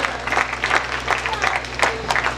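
Audience applause, a steady patter of many hands clapping throughout, with a faint voice underneath.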